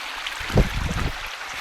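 Floodwater running through a new stream in Kaniv, a soft rushing wash with a brief louder low splash or rumble in the middle, no voices present.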